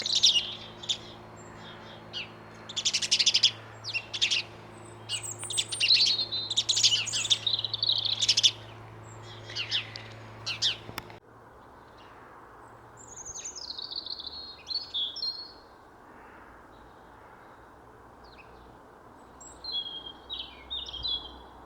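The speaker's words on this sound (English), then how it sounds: "Some sort of bird argument going on behind me" Birds chirp and squabble outdoors in rapid, bursty flurries of high tweets, loud and close at first, then thinner scattered calls continue farther off over quiet ambience.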